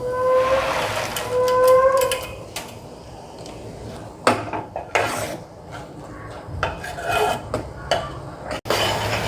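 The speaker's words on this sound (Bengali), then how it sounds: "এখন আমি এই যে বোঁদেগুলো এগুলো সব এখানে দিয়ে দেব" Boondi tipped into a pot of boiling sugar syrup and stirred, with metal spoon scrapes and clinks against the pan in uneven bursts, close and fairly loud, no talking.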